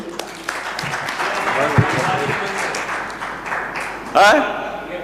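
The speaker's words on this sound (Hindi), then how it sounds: "सही है एकदम, जोरदार तालियां होनी चाहिए।" Audience applause at a Hindi hasya kavi sammelan (comic poetry event), a steady wash of clapping running beneath a voice as he talks.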